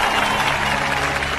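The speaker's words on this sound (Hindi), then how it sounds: "ताली बजाओ।" Dense applause and clapping from a crowd in a scene from the Telugu film Eagle, a steady wash of hand claps that fills the whole short moment without pause.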